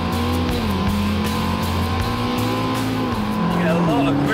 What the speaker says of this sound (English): The sound of the engine's lovely.